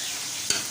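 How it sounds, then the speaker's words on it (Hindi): A spoon stirs fried minced meat (qeema) in a pot, giving a quiet sizzling hiss with one brief scraping swish near the end. "और फिर इसके अंदर हम चलाएंगे चम्मच"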